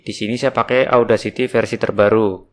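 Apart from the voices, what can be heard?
No everyday noises stand out.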